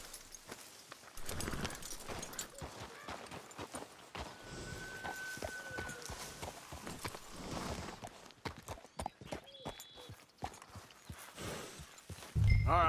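Horses trot along in the Red Dead Redemption 2 video game, with a steady clip-clop of hooves fairly close, faint and continuous under a low outdoor ambience.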